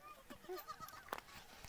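Goat bleating in a Thar desert village, a few short faint calls mixed with people talking nearby.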